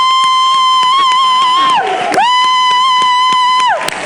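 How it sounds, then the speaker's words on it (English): Crowd at a youth question session with Malawian President Lazarus Chakwera cheering and whooping, with a loud sustained tonal whistle or horn riding over the noise and dipping twice. "Another round of applause, ladies and gentlemen"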